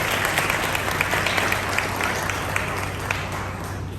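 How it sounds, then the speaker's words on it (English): Sustained audience applause at an awards ceremony and fundraiser, a dense steady wash of many hands clapping at moderate distance throughout, with faint crowd murmur beneath. "give a round of applause"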